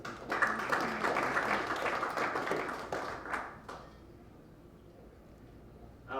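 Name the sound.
applause for boxer at press conference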